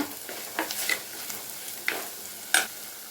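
A spoon stirs chilli powder into prawn curry in a pan over medium flame. Soft scraping and a few sharp clinks of the utensil sit over a low, quiet sizzle, with no talking.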